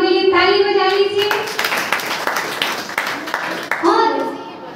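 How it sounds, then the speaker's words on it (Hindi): An audience at a Jain religious gathering claps hands in a brief burst of applause in the middle, with a continuous chanting or singing voice heard before and after it. "अपने लिए ताली बजा लीजिए"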